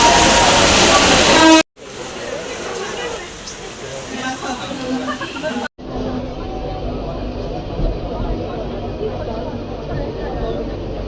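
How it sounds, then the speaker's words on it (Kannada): Mumbai local train on a crowded platform during Ganpati season, giving a short horn toot, with loud station babble and a rumbling train, and a person talking close by. "ಇಲ್ಲಿಂದ ಲೋಕಲ್ ಟ್ರೈನ್ ಹಿಡ್ಕೊಂಡು ಹೋಗ್ತಿದ್ದೀವಿ"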